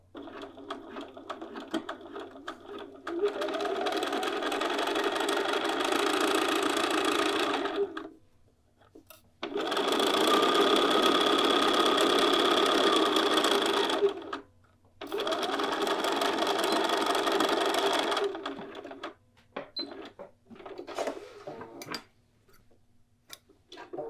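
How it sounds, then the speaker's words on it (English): A sewing machine stitching a bodice seam with backtacks, running in three long steady bursts with short pauses between them, close and loud, ending in a few lighter taps. "So I'm going to put my stitch length back, and I am going to backtack here."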